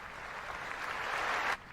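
Applause fills a large hall at the State of the Union, a dense steady clapping that swells slightly and then cuts off abruptly near the end.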